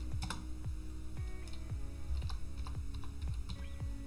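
Keys tapped out on a computer keyboard while entering a terminal command on Ubuntu, a steady run of distinct close clicks with a few heavier strokes, no talking.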